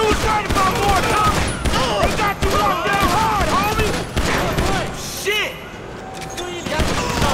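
GTA V gunfire rattles in rapid bursts of shots, loud and dense over game sound, with voices talking over it.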